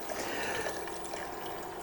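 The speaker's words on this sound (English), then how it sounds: "just punch a hole in the top to allow air to break the vacuum, and it will just pour in perfectly" Chicken broth pours steadily from a carton punctured at the top into a cooking pot, a smooth continuous liquid rush without glugging, close and moderately quiet.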